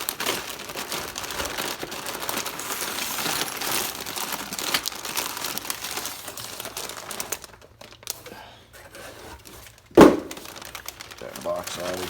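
Paper crinkles and rustles while an Apex parts kit is unboxed, dense close crackling for most of the span, a quieter gap, then a sharp rustle before crinkling resumes; faint talk may sit underneath.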